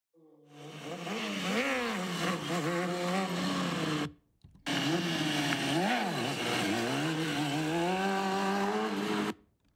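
A motorcycle held in a controlled wheelie, its engine revving loud and close in rising and falling surges, cutting out briefly before roaring on again until it stops.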